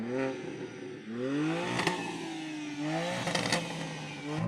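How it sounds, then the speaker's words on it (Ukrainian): BMW M2 G87 engine revving to redline at close range, with repeated climbing and falling revs and sharp crackling pops at the peaks, with no talk during the clip. "Оберти до червоної лінії."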